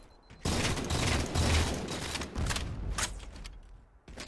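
Dense, continuous gunfire in a Halo 4 battle royale match, loud and close, with sharp repeated shots and a few heavier bursts and no pauses.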